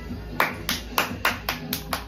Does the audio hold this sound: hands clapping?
yes